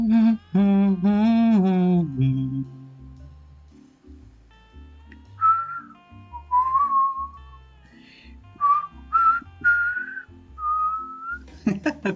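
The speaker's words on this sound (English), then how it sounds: "I'm whistling along badly." A person whistles melodic phrases along with music from the Leisure Suit Larry: Wet Dreams Dry Twice game, with clear sustained notes over a soft musical backing and brief pauses between lines.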